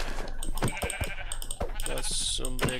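Sheep bleat in Minecraft, with a few wavering calls over busy game sounds and a mix of clicks and thumps. Someone talks throughout.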